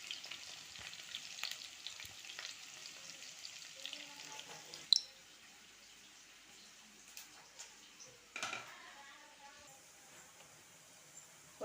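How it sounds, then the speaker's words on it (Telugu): Onions fry in hot oil with a faint, soft sizzle and occasional clinks of a utensil, quiet and continuous throughout a home kitchen cooking session. "ఆయిల్ బాగా వేగిన తర్వాత ఆనియన్స్ వేయాలి"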